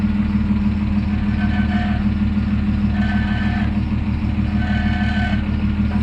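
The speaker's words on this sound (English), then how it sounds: "Hear the exhaust rattling at the back." A Falcon car idles with a steady low engine drone and a continuous rattle from its exhaust, loud and close, with faint higher metallic tones recurring over the rumble.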